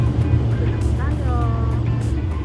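Boat engine droning steadily as the boat brakes on a ride at Souk Al Seef in Dubai, a loud continuous hum with whining tones rising and falling, while people talk over it.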